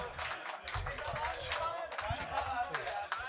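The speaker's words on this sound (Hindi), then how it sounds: "अरे एक बार जोरदार तालियां हो जाए यार रिजवान साहब।" Applause from a mushaira audience at the Ujjain Lal-o-Gohar Aalmi poetry gathering, a steady dense patter of many hands running throughout, mixed with voices talking over it.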